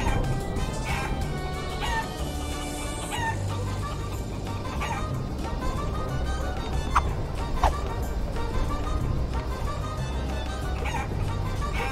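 Chickens clucking in the video game Guacamelee, a busy layered mix of fowl calls and rooster-like cries over steady game music, continuous and fairly loud throughout.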